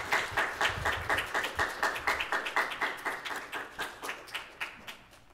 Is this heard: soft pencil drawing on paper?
no